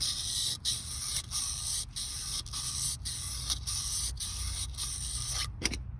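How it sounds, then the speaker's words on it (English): Sandpaper is rubbed back and forth by hand on a Ford 8.8 IRS axle, making a close, rhythmic scraping with even strokes about twice a second that stops abruptly near the end. "So I'm just taking the sandpaper and just going back and forth."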